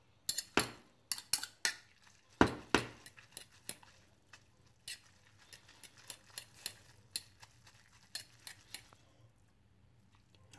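Noodles being mixed around in a bowl with cutlery: a run of sharp clinks and taps of utensils against the bowl, dense and louder at first, then lighter and sparser, with no talking.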